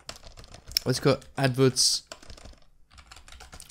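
Rapid clicks of a computer keyboard as someone types a campaign name while setting up a Google ad campaign, steady under someone talking.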